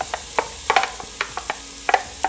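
Onions tipped into a pan over low-to-medium heat for a homemade Indian curry give a soft, scattered run of light taps, scrapes and brief crackles, quiet and close, with no voices.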